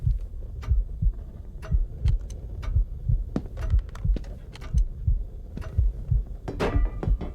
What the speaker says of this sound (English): The heartbeat in the game is so annoying, and it's there the whole time.